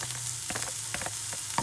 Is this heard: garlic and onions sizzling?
yes